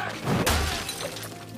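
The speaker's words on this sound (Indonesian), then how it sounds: "Bahkan ia juga menonjok kaca mobil Kim hingga pecah." A car window's glass shatters from a punch in a film fight scene: one sharp, loud crash with a bright spray of breaking glass, then scattered fragments and low rumble trailing off.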